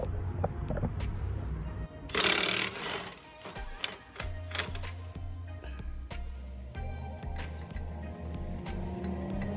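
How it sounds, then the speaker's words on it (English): An 18mm socket loosens the brake caliper bracket bolts on a 2007 BMW 335i, making a burst of loud ratcheting and metal clatter early on, then intermittent clicks over a low steady hum. "we need a 18mm socket to remove the caliper bracket"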